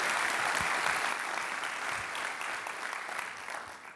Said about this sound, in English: giving Samantha and the team at the Business Journal a big round of applause for all the work they do.